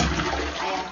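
A toilet flushes, a continuous rushing gush of water lasting the whole second, fairly loud and near, with no voices over it.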